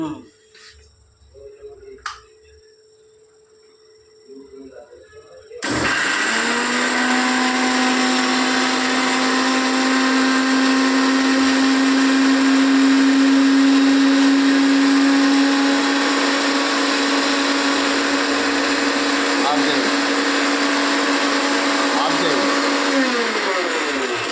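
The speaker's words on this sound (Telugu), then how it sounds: "వట్టి మిరపకాయలు, ధనియాలు, కొబ్బరి మిక్సీ పడుతుంది" A mixer grinder whirs loudly and steadily, grinding dried red chillies, coriander seeds and coconut. It starts abruptly after some quiet background sounds and runs continuously at close range until the end.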